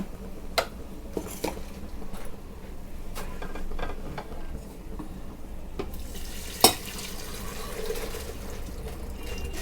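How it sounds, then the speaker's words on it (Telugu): Steady watery rush and sizzle as heated water goes into a hot pot of chicken pulao, with a few clinks of a utensil and one sharp knock near the end. "ఇప్పుడు ఇందులో మనము ఎసరు పోసుకుందాము"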